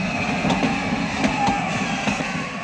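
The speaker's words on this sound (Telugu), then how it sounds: "అయ్యో, ట్రైన్ స్టార్ట్ అయింది." A train starting to move at a station, with a continuous rumbling hum and soft rhythmic clacks at a moderate distance, no talk over it.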